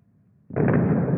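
Naval gunfire in a video game booms in close and loud, one heavy blast following a quiet lead-in and rumbling on without pause.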